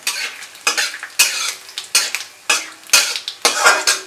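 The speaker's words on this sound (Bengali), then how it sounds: "ফোড়নটাকে ফ্রাই করে নিলাম 30 সেকেন্ড মতো।" Whole spice tempering of bay leaf, dried red chilli, cumin, cardamom, cinnamon and cloves frying in hot oil in a pan, sharp sizzling bursts with rhythmic spoon stirring scrapes about every half second, close and loud.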